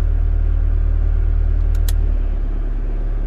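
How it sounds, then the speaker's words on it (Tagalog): A Mitsubishi Pajero engine running at high RPM with Econo and AC mode on: a loud, steady low rumble and drone heard close up, with a brief high clicking in the middle. "more engine noise because it's already on the Econo and AC mode"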